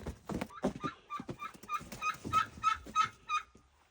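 A farm goose gives a run of repeated honking calls, close and fairly loud, in an irregular rhythm with short gaps and a few soft knocks between.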